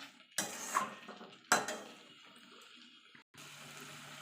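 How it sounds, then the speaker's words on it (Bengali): Potatoes and spices are stirred in a pan for a meatless aloo dum, with two short, close metallic scrapes of the spoon over a low background, and no speech. "এইভাবে মিনিট খানিক নাড়াচাড়া করে নেব যাতে আলুর ভেতর সব মশলাগুলো ঢুকে যেতে পারে"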